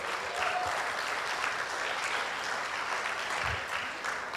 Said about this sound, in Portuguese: Vem, Paulão, salva de palmas para ele, gente.